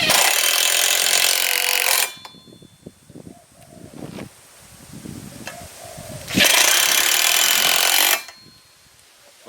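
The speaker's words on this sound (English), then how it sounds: "By using a simple batten screw, screw through the holes already organised on your post cap." Power driver sinking a batten screw through the holes of a metal post cap, two loud sustained whirring bursts separated by clattering and handling noises.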